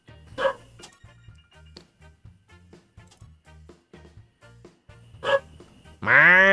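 A dog barks in a few sharp bursts at the start and again later, with scattered quieter sounds in between and a louder closing yelp or whine.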